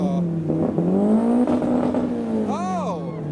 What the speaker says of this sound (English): This one sounds a bit more like a V12 than the other one.